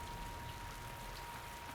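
Steady rain in the puzzle-platformer video game Typoman, a constant even hiss of falling drops with no break, alone and fairly quiet throughout.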